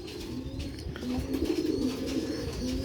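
Silver Star roof pigeons coo nearby, a low, throaty, rolling coo repeating over steady background noise, with no talking.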